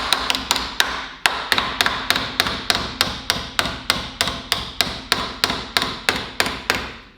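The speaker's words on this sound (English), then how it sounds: "This stage may best be called planishing, smoothing out with many softer hammer blows" Rapid, even planishing hammer blows on a metal repair panel for a Santana bulkhead, a bright ringing tap roughly three or four times a second, close and continuous with no talking.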